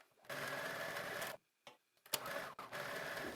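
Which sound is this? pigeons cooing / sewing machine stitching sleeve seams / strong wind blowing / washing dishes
sewing machine stitching sleeve seams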